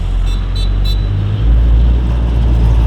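A truck turns around on a service road, its engine rumbling low and loud with a deeper surge midway, while brief horn toots sound three times early on amid traffic noise.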